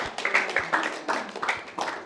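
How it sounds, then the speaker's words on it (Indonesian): A small audience at a talk gives a short burst of applause for Pak Boyke, a few seconds of uneven, close hand clapping. "Tepuk tangan buat Pak Boyke."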